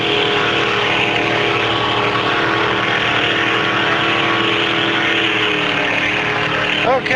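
Racing motorboats High Throttle and Off Kilter starting the Dustin Bruce Conrad Memorial Boat Race at Shelburne, engines droning steadily and loud under a race announcer's commentary.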